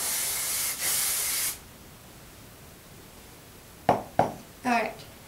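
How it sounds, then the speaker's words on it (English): Aerosol hairspray misted onto curled hair in two bursts, a steady close hiss for about a second and a half broken by a brief gap, followed by quiet and a few short knocks and a voice. "And then I go ahead and spray all over"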